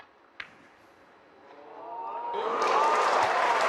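A snooker crowd breaks into applause after a century break at the World Grand Prix 2026 final, the clapping swelling from faint scattered claps into a broad, steady round of applause.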